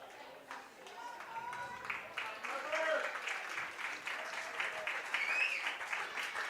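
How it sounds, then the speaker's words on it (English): A high school baseball crowd at Athletic Park applauds as the pitcher leaves a Totino-Grace at Chaska game. The steady, fairly distant clapping runs throughout while a commentator talks over it. "leaves to a round of applause"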